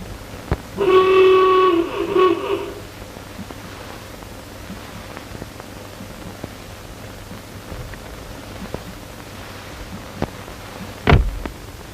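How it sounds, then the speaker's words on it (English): A car horn from around 1929 gives one steady, honking blast of about two seconds, followed by a quiet background and a single dull knock near the end. "Sound your horn, Wilson."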